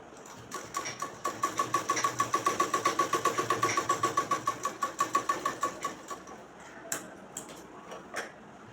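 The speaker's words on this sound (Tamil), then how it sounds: "ஊசியை நிப்பாட்டி துணியை திருப்பி தைச்ச தையல் வழியை மறுபடியும் தைக்கிறோம்" A sewing machine stitches velvet cloth for an umbrella frock in a fast, steady run of mechanical thumps lasting about six seconds, then stops. A few scattered clicks follow as the fabric is handled.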